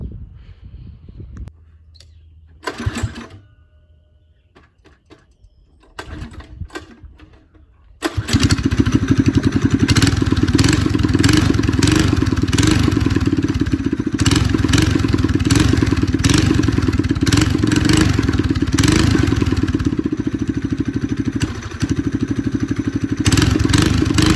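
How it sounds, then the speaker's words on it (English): A few clicks and short sputters, then a small go-kart engine with a stage 1 performance kit catches and runs loud and rough, revving up and down continuously with a brief dip near the end. "I kind of want to hear what the exhaust sounds like, so I'm going to try to start it up here"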